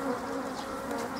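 Honey bees buzz inside a crowded beehive, a dense, steady drone that holds at an even level from start to finish, close to the microphone and with no voices.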